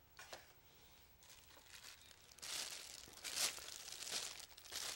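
Quiet crinkling of a plastic bag being handled nearby, with irregular bursts of rustling that grow a little louder over a few seconds.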